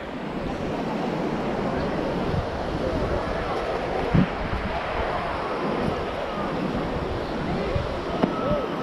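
Sea waves washing up on Aksa Beach in Mumbai, a steady broadband wash of surf with wind rumble on the microphone and no clear breaks.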